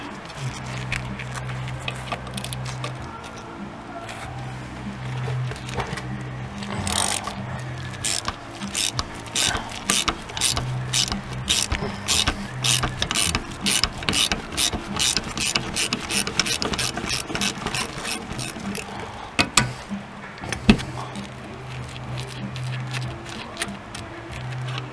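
Ratchet wrench loosening a bolt on the rear brake of a Renault Scenic, a steady run of close, crisp clicks in quick regular bursts with occasional louder knocks near the end.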